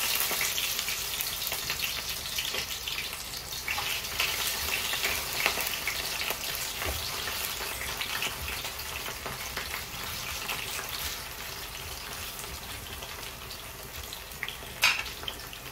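Banana chips frying in hot oil give a continuous crackling sizzle for a long stretch, steady and moderately close, with occasional sharper pops and stirring sounds.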